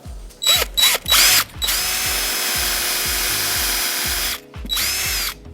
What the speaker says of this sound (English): I do use a brad point drill bit